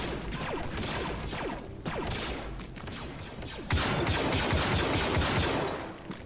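Rapid bursts of gunfire in a third-person video game, dense overlapping shots and impacts over a steady noisy bed, growing louder and busier midway.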